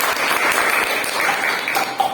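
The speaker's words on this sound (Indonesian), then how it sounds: "Tepuk tangan dulu untuk kalian." A classroom of vocational high school students claps for themselves at a teacher's prompt, a dense steady patter of hands that holds at even strength for about two seconds.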